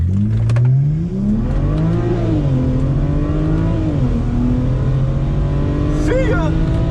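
Car fitted with new turbos pulling hard in first gear, a loud close engine note rising in pitch through the revs with turbo whine, while people shout over it.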